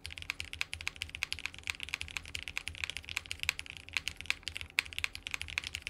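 Rapid typing on a Space 80 Apollo mechanical keyboard with quiet switches, a close, steady patter of soft clacks in an even rhythm, with no voices.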